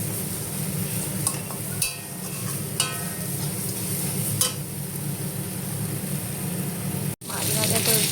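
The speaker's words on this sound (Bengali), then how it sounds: "মাছ ভাজা চলছে এখানে।" Fish fries in a pan with a steady, close sizzle and crackle, broken by a few sharp spatters and spatula knocks, with a brief dropout near the end.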